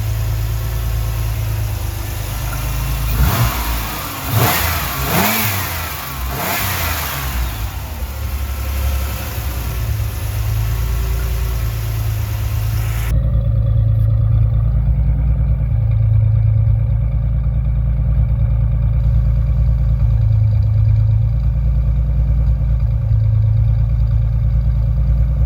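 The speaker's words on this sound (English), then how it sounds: "it's going up and down, up and down. Then it goes too low and it surges and almost dies" A 1989 Chevy Celebrity engine idles roughly, its low rumble surging up and down and sagging as if about to stall, steady and close throughout with a brief rattling flutter early on.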